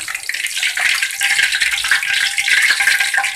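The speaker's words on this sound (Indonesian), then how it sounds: "Sekarang kita goreng lagi ini sampai matang ya." Shrimp fritters (bakwan udang) sizzle and crackle steadily in hot oil, a close, bright, continuous frying hiss with small pops throughout.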